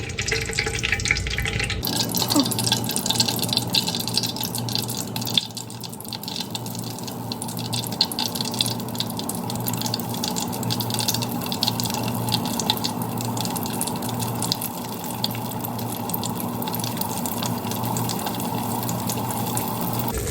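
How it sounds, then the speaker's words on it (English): Floured pieces of salt pork fry in a pan of hot oil, giving a steady, dense sizzle and crackle that runs close and continuously throughout without any talk. "put them in our hot oil and let them fry up"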